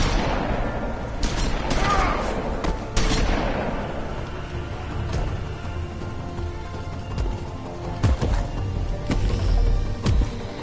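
Volleys of gunfire from The Wolf Among Us strike a character in bursts of shots and booms, loudest in the first few seconds and recurring near the end, with a voice talking over the game sounds.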